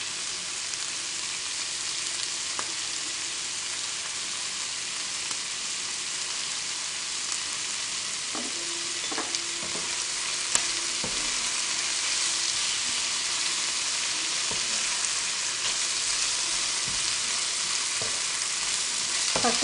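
Beef liver sizzles in a pan with a constant bright hiss while it is stirred, with a few soft scrapes and clinks from the utensil standing out over the steady frying, close up and without talking.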